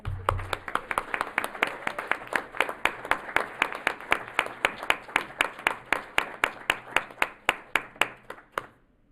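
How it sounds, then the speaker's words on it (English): Rhythmic, evenly spaced clapping, seemingly from a single pair of hands or a small group, at a city council meeting in Sierra Madre honoring the Sierra Madre Wildlife Sanctuary organization; about thirty sharp claps in a steady beat, moderately close. "If you now could all join me in a round of applause for these."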